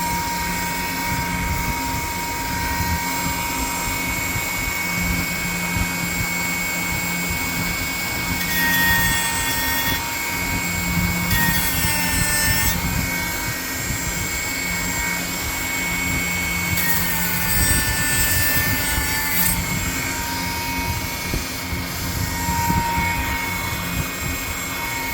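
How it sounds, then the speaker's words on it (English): A grinder works on a Ballistik Research Group ARCA rail mount for a Garmin Xero, a loud, continuous high whine lasting the whole stretch, swelling into harsher bursts several times as it bites the metal. "Give it a grind."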